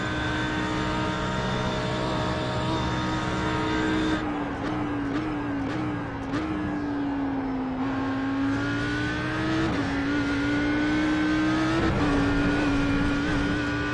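An Audi R8 GT3 race car at Bathurst holds a loud, sustained engine drone at full throttle from inside, the pitch dipping briefly at gear changes before climbing again.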